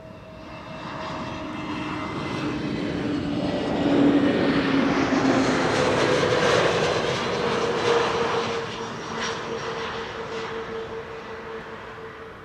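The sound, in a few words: EasyJet Airbus A320neo airliner arriving from Gatwick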